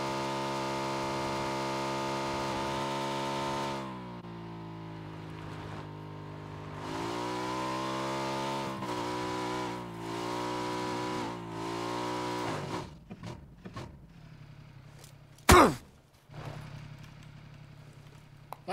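A motorcycle engine in the video game PUBG hums and revs in steady sustained tones, with several pitch shifts, then sputters into scattered knocks and one loud crash near the end.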